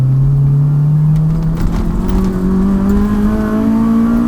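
A 2000 Honda Accord climbs a winding mountain road, its engine droning loud and close with a steadily rising pitch as it holds and pushes through the throttle.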